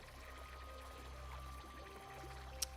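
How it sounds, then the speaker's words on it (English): Bubbling water in the game Free Realms, a steady low, quiet gurgling stream running throughout with a tiny click near the end. "the bubbling sound gets annoying"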